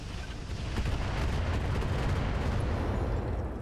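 Continuous heavy rumbling weapon fire from a mech in the Roguetech mod of the BattleTech video game, a dense roaring barrage that holds steady throughout with no talk.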